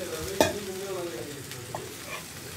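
Washed beef being added to a pan of masala for a Kerala-style beef roast, with a sharp clatter of stirring at the start, then a steady moderate sizzle and occasional scrapes.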